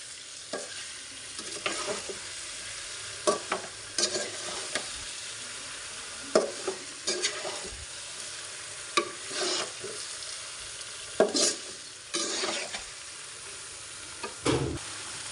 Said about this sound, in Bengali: ভালোভাবে নেড়ে ছেড়ে মিক্স করে নিচ্ছি।